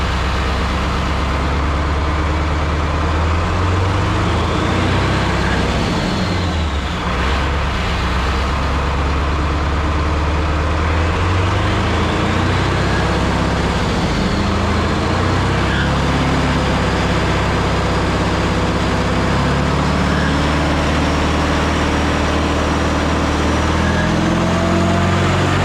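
Detroit 8.2L diesel engine held at high revs near 3,000 RPM, a steady loud droning roar with a deep low rumble that runs unbroken throughout, slight swells in pitch along the way.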